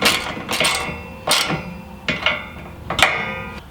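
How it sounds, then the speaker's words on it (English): A 10mm wrench tightening a bolt while a MOPAR tailgate table is installed gives sharp metallic clanks and knocks. There are about five distinct strikes spaced irregularly over a few seconds, close and fairly loud. "Our trusty 10mm wrench. And we'll go ahead and tighten it down."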